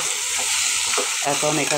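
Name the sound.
lentils (dal) frying and being stirred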